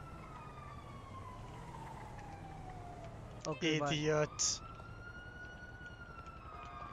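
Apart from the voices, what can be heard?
police sirens in GTA V video game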